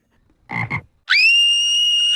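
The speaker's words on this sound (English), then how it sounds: "she has a fear of frogs" A frog croaks twice in quick succession in an anime scene, loud and close, followed by a sustained high whistling tone.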